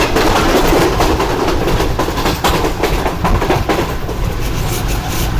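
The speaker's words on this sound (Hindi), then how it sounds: "और बहुत ही बेहतरीन स्पीड में ट्रेन ने स्किप किया है दुनियापुर रेलवे स्टेशन पर" A Pakistani express train, the Business Express, races through Duniyapur railway station at around 105 km/h, a loud, continuous roar of wheels and carriages with rapid clickety-clack rail joints, heard close and steady throughout.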